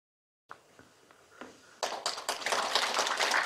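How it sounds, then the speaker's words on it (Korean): A seminar audience at a Namhansanseong appreciation society meeting welcomes a guest lecturer: a few scattered taps after silence, then a dense, steady burst of applause building for the last two seconds. "열렬한 박수로 맞아주십시오."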